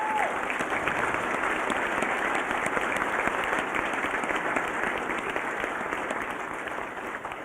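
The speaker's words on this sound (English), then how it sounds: "give them one more really big round of applause" Sustained audience applause at an annual dinner for retiring board members, a dense, steady wash of clapping that holds at an even level throughout and eases slightly at the end.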